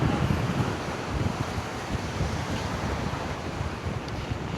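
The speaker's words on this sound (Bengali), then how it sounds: "এখানকার যে সমুদ্র সৈকতের যে একটা শব্দ" Sea waves wash onto the beach at Shahporir Dwip near Teknaf, Bangladesh, a steady loud roar with strong wind buffeting the microphone throughout, no speech.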